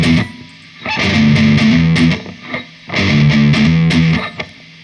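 Heavily distorted electric guitar plays a riff at full speed, two quick bursts of driving low picked notes with a short gap between.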